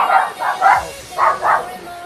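Dogs bark in a muffled way from nearby, about five short barks in two quick clusters with a brief pause between them, over a quiet room background.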